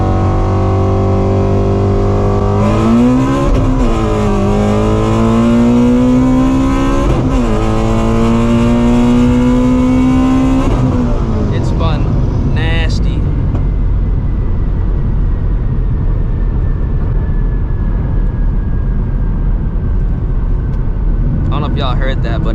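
A 700 hp ProCharged Shelby GT350 launches hard with its supercharged engine revving high, the tires spinning and the revs climbing in steps through several gears before it fades away, with talk over parts of the run.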